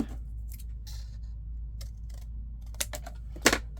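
Scissors trim a small flap on a handmade junk journal card of fabric, lace and tea- or coffee-dyed paper, giving two short, close snips near the end over a low steady hum.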